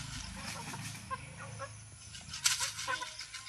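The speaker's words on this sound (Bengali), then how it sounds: "এবার কিন্তু আমি আরেকটা মুরগি ধরবো" Chickens cluck and squawk in a farmyard at close range, with sharper bursts of alarmed calls toward the end.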